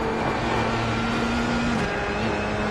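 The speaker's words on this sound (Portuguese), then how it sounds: "Esse barulho de atrito, fricção, é o som dos pneus no iRacing" Simulated tyre friction in the iRacing sim racing game, with the engine sound turned down and the tyres turned up. A sustained tonal whine rides over a low rumble and shifts pitch partway through.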